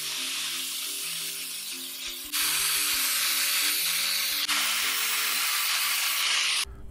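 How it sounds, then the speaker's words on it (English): An angle grinder with a flap disc stripping paint from a Toyota 4x4 solid front axle housing: loud steady abrasive hiss in two long bursts, set against background music. "Using an angle grinder and a flap disc"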